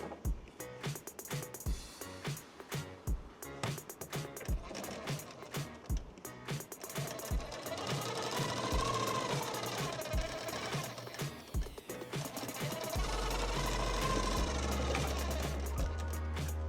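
A sewing machine stitches a princess cut blouse, its needle hammering in a fast, close, steady rhythm that speeds up into a denser whirring run partway through, with no talk.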